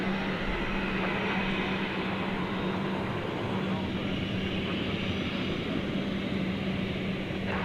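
An airliner departs at night from DFW Airport, its steady broadband engine roar holding loud and continuous, with a low hum running through it and a voice talking at times.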